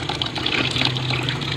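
Water flowing steadily outdoors during mushroom picking in Batuan, Bohol, Philippines, a continuous broadband rush that stays close and even throughout with no talk.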